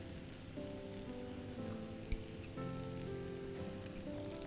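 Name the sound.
red chili sauce added to sizzling dosa masala in pan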